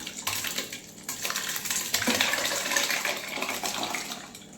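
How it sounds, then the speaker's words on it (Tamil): Ice water is poured into a container of fresh homemade butter being separated for ghee, making a steady splashing, gurgling pour with faint clinks of a vessel, all fairly close. "ஐஸ் வாட்டர் கொஞ்சம் ஊற்றிட்டு அதுக்குள்ளே ஊற்றிக்கலாம்"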